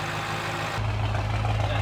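A BMW M5 engine with a Valvetronic titanium exhaust idles steadily, then the exhaust valve opens and the note jumps to a louder, deeper, fuller rumble that holds to the end.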